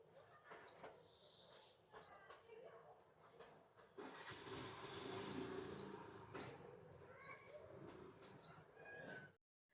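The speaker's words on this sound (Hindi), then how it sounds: "तो आप सबों को चिड़िए की चू चू सुनाई पड़ रहा था" Small birds chirp near a nest in a home garden, giving repeated short, bright tweets at close range, some spaced apart and others in a denser burst, over faint background noise.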